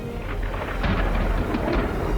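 Thunder from a lightning spell in the video game Infinity Strash Dragon Quest rumbles and crackles, loud, dense and sustained, with rain-like hiss throughout and no voices.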